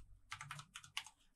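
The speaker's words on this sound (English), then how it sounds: "we may proceed by typing the function normality" A handful of quick keystrokes on a computer keyboard click quietly and close by, spaced in a short burst while a function is entered in RStudio.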